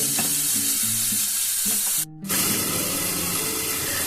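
Garlic, green chilli and ginger frying together in oil for chilli soybean: a loud, dense, continuous sizzle close by, cut by one short dropout midway, with no talk.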